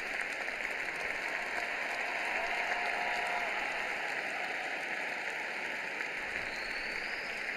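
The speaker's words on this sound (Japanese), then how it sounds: "温かい大きな拍手です。" Warm, loud applause from an ice gala audience in Bolzano, a dense, steady wash of clapping filling the arena without pause, with faint voices beneath.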